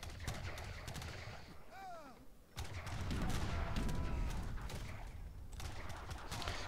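Musket volleys in Age of Empires III, crackling rounds of massed gunfire rolling on steadily at moderate volume, with a short dip before heavier firing resumes.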